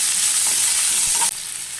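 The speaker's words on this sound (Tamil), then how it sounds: "வெங்காயம் தக்காளி வந்து போட்டுடலாம். போட்டுட்டு லைட்டாக இது சாட்டே பண்ணிக்கலாம்" Onion and tomato sautéing in hot oil give a steady, close sizzle with light stirring, and the hiss drops slightly toward the end. No one speaks.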